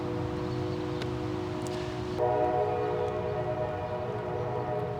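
A passing train sounds its horn in a sustained, loud multi-tone blast that shifts pitch partway through, with rail rumble underneath and no talking.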